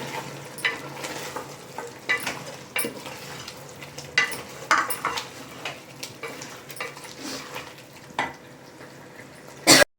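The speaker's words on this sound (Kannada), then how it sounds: "ಚಿಕನ್ ಜೊತೆ ಇದನ್ನ ಚೆನ್ನಾಗಿ ಮಿಕ್ಸ್ ಮಾಡ್ಕೊಳ್ಳೋಣ." A spoon scrapes and stirs chicken into masala in a sizzling pan, irregular clinks and swishes over a steady frying hiss.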